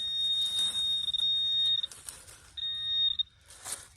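A metal detector sweeping over buried old brass gives sharp, close, high-pitched electronic tones, one held for nearly two seconds and then another after a short gap, with faint digging noise and rustle underneath and no speech.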